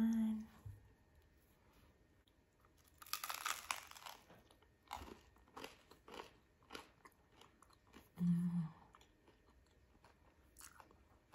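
Crunchy bread with soft, moist tuna being bitten and chewed close up at breakfast, a few sharp crunchy bites followed by quieter chewing, with brief low vocal sounds between.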